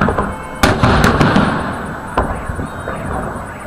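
Fireworks salute for the 76th Victory Day anniversary, with several sharp bangs and crackling bursts at a moderate distance over a steady background rumble and crowd ambience.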